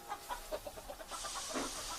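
Several hens cluck in quick, soft bursts, then a hissing rush of steam swells and covers them.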